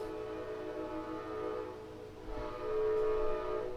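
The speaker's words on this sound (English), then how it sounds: "There's a train passing right now." A train rolls past nearby with a steady rumble and a sustained horn, the sound swelling louder toward the end.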